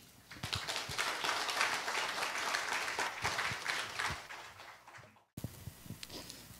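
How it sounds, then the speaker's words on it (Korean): An audience claps loudly in a steady, dense wave to welcome a university lecturer to the podium at a philosophy forum; the clapping cuts off abruptly, then a few scattered claps trail on more quietly. "여러분 큰 환영의 박수 부탁드립니다"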